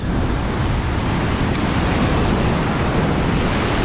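Ocean surf rolling onto an Australian shore during a fishing trip, a loud, dense, unbroken wash of breaking waves mixed with wind noise, nothing else audible.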